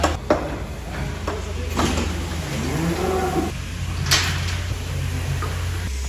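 A cow in a cattle crush gives a low moo midway through, mixed with metallic clanks and bangs from the crush gates and steady background noise on a farm.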